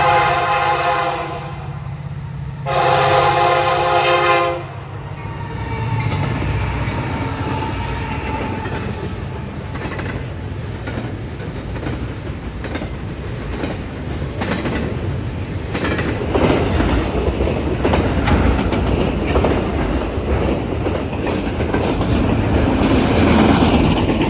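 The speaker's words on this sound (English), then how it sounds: "we see a CN Intermodal with an SD75M leading and a GEVO in second" A CN intermodal freight train led by an SD75M with a GEVO second sounds a long horn blast, then rolls past loud and steady with continuous wheel clatter and rumble.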